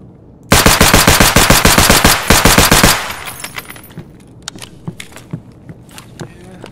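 Glock 17 pistol firing in Escape from Tarkov, a rapid full-auto burst of close, loud shots lasting about two and a half seconds, followed by scattered fainter clicks and handling noises.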